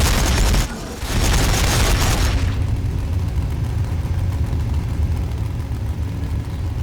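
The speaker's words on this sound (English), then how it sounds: "Warbikers firing, boss!" Ork warbikers open fire in a Warhammer 40,000: Battles skirmish against the T'au, a loud burst of booming gunfire for about two seconds after a brief dip, then a sustained rumbling battle din.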